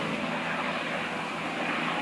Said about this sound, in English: Yeah, that's a police helicopter.